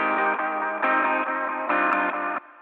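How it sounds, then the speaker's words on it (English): A buzzy, distorted synth chord pulses in short blocks, its bright upper edge gritty and harsh, before dropping to a thinner tone at the end. "I just kind of put some distortion on just the top end"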